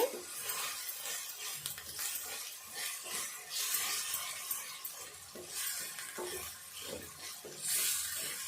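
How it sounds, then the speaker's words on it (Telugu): Ginger garlic paste frying in a pan, a steady bright sizzle with repeated scraping and stirring strokes of a utensil against the pan, close and continuous, with no talk. "ఇది కూడా కొద్దిసేపు వేగాలి. ఈ అల్లము వెల్లుల్లి పేస్ట్"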